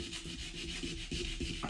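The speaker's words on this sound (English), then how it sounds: "belt sandpaper here, just to give it a little bit rougher surface, both on the bottom of the CPU cooler and the flattened out JB Weld" Belt sandpaper roughening the bottom of a CPU cooler and a flattened JB Weld surface for a DIY wood stove fan, a close, steady scratchy rubbing with short back-and-forth strokes.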